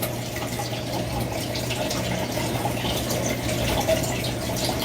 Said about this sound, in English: that's an aquarium in the same area